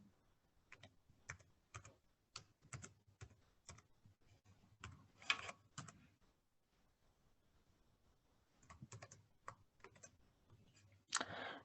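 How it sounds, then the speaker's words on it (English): Keys clack on a computer keyboard in short bursts of typing, with a pause midway, close and fairly quiet. "So I'm typing in now."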